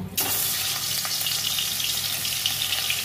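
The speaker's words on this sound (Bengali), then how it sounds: "দিয়ে আমি মাছ 2 পিস ভেজে নেব" Two pieces of fish, rubbed with salt and turmeric, hit hot oil in a pan for a Bengali fish curry, erupting into a loud, continuous close sizzle that holds steady throughout.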